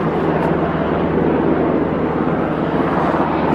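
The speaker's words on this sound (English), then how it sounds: "that doggone guy in that helicopter is going to harass me" A helicopter drones overhead above berry-covered coastal ground near Sitka, Alaska, a steady, loud engine rumble with a low hum that continues throughout, no talking.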